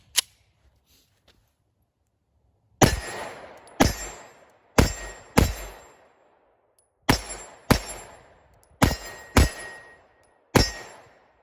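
Nine sharp pistol shots from a PSA Micro Dagger firing 124 grain Blazer Brass at a range, loud and close, in uneven pairs and singles with short echoing tails, after a faint click and a quiet pause.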